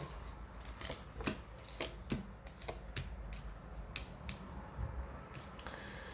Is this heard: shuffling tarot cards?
yes